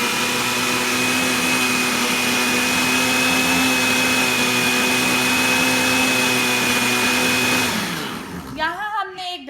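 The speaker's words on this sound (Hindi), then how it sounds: "अब इसको हम ब्लेंड कर लेंगे।" An electric blender whirs loud and steady for about eight seconds, blending cold coffee with French vanilla powder, then spins down and stops with a rattling wind-down.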